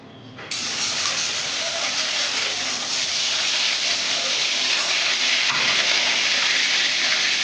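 Fresh oil poured into a hot wok in a home kitchen bursts into a loud sizzle after a brief quiet moment, then keeps up a close, steady hiss while it is stirred.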